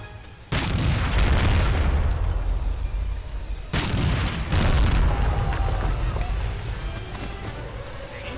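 Howitzer blasts in the Medal of Honor Rising Sun video game: two loud, heavy booms a few seconds apart, each followed by a long rumbling decay, with a voice talking underneath.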